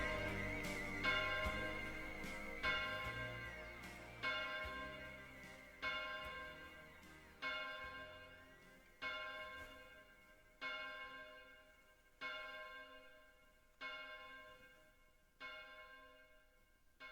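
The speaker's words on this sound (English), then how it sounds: "The bell." A single bell on an album tolls at a slow, steady pace, roughly a dozen strikes. Each ring decays into the next as the music beneath fades away.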